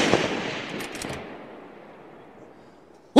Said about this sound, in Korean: 거리별로 다양한 표적을 향해 정밀 조준 사격을 실시합니다